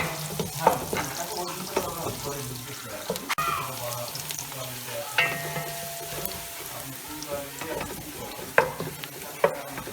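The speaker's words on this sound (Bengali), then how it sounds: "একটু ভাজি হলেই হবে, হালকা ব্রাউন।" Bottle gourd frying in a pan until light brown, a soft sizzle stirred now and then with clinks of a utensil, alongside running water and scattered kitchen clatter.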